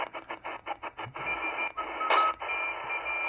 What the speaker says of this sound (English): Some Morse code here.